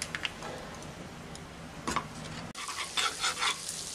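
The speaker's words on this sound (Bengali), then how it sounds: "এখন আমি কড়াইতে দিয়ে দিচ্ছি 1 টেবিল চামচ বাটার।" A tablespoon of butter melting in a hot kadai, giving a faint, even sizzle with a few light ticks and scrapes, then a brief cut followed by a livelier crackling burst.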